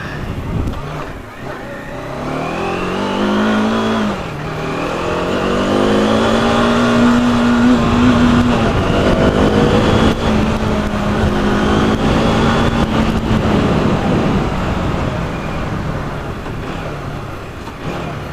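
A Bajaj Dominar 400 motorcycle engine under way, loud and close, its pitch rising and falling through the gears as the bike accelerates and cruises.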